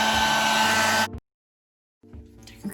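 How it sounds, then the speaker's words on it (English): A handheld blow dryer runs loud and close while drying a lace front wig, a steady whooshing roar that cuts off, goes silent briefly, then starts again at a lower level. "you're gonna take that edge brush and the blow dryer, and you're gonna blow dry it back"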